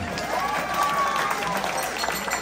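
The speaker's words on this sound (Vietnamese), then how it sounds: "Đây là cái đám cưới đầu tiên mà Duy Minh vỗ tay" A wedding audience applauds as the bride and groom sing and dance on stage, a sustained crowd clapping that runs throughout, with voices faintly mixed in under it.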